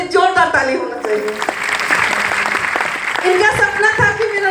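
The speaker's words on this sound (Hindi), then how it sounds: "रविशंकर के लिए जोरदार ताली होना चाहिए।" An audience applauds loudly for Ravishankar at a DXN family gathering, with steady clapping running under someone talking over a microphone throughout.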